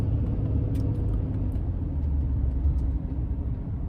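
Road traffic passes in Baja just after 6 a.m. as a continuous low rumble of car engines that stays steady and moderately loud, with no one talking over it.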